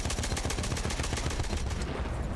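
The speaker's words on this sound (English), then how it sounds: "There is a lot of explosions going on in B, huh?" Rapid bursts of automatic gunfire mixed with explosions in the video game Battlefield, a dense, loud, continuous rattle of shots with no voices over it.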